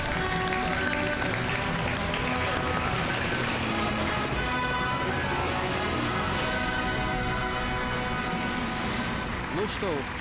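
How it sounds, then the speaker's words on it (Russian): A studio audience on a Russian talk show claps in dense, sustained applause that runs steadily with no break from start to finish. "Спасибо за аплодисменты."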